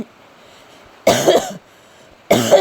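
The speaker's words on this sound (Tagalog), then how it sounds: "pasensya na talaga guys, inuubo po ako" Two loud, close coughs from a person indoors in a bedroom while heavy rain falls outside, each a harsh burst about half a second long, separated by roughly a second of quiet.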